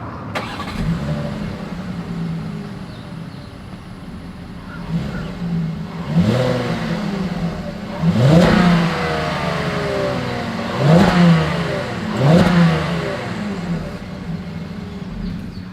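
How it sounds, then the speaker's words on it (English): A 2021 Volkswagen Atlas SUV engine idles with a low exhaust rumble, then the exhaust is revved several times in quick bursts, each roar rising and falling back. "As always, here is that exhaust clip."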